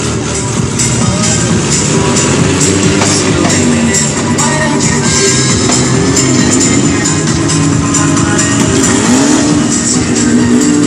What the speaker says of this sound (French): Ces voitures vont se suivre le plus près possible l'une de l'autre, et si possible, à quelques centimètres seulement